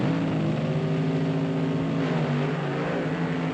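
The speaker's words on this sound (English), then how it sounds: "They release their brake and they're away in a cloud of smoke." 1965 drag racing cars launch from the start line at the NHRA Winternationals, a loud, continuous engine roar with rising, shifting pitch and no talking.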